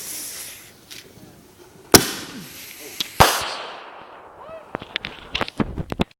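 Camo Mag fireworks going off outdoors: sharp loud bangs and crackling bursts, with a few big reports early on and then a rapid scatter of pops toward the end, set against faint background noise.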